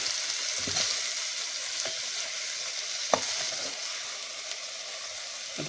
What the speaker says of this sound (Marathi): आता मासं टाकल्यानंतर ते पण चांगलं ह्या ग्रेव्हीमध्ये आपण म्हणजे असं मिक्स होईपर्यंत खालीवर करून घ्यायचं चांगलं